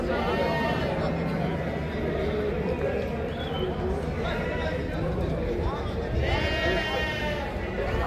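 Sheep and goats bleat repeatedly at a small-livestock market in Çorum, Turkey, over a steady crowd murmur and nearby talk, with several clear calls rising above the din.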